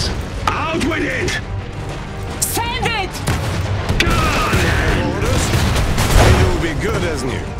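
Machine gun fire and battlefield booms in the strategy game Iron Harvest, bursts of rapid gunfire mixed with explosions and mechanical clatter, steady and loud, with voiced unit callouts over the top.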